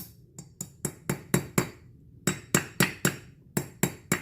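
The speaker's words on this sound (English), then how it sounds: "you just do light taps around in a circle" Sharp metallic hammer taps on a trailer wheel bearing race ring out in quick groups of several strikes, with a short pause between groups, close and clear.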